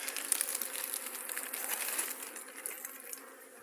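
Honeybees hum in a dense, continuous drone at an open hive in an apiary, close and steady with a few brighter wingbeat flickers, no talking.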